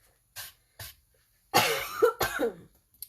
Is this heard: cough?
yes